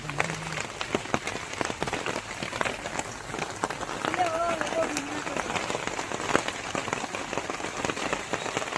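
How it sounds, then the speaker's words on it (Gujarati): Heavy rain pours down steadily, a dense, even hiss with scattered drop impacts that continues without pause for the whole stretch, with faint voices underneath. "વરસાદ ધમધમાઈને ચાલુ થઈ ગયો છે"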